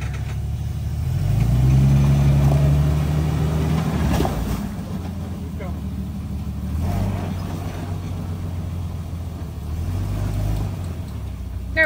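An off-road vehicle engine at an off-road park driving up a dirt wall, a close, loud rumbling drone that surges and revs in several swells, no talking.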